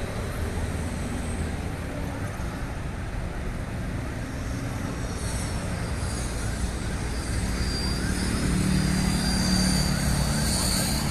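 A drone's buzzing propellers whir steadily over a high-speed rail construction site near Tegalluar station, a constant airy drone blended with distant site and traffic noise, growing slightly louder toward the end.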